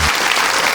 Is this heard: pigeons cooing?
no